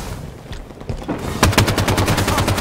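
Halo 5: Guardians online Slayer match: after a quieter stretch, rapid automatic gunfire cracks out in a fast, evenly spaced stream of loud, close shots.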